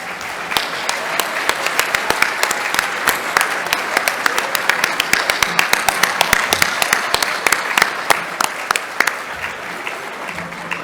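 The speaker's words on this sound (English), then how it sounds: "let's give them a big round of applause" An awards luncheon crowd gives a long, steady round of applause, with many hands clapping at once and sharp individual claps standing out across the whole stretch.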